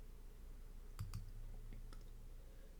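A computer mouse clicks while someone uploads a photo during business card editing: a quick double click, then two lighter single clicks, faint against quiet room tone.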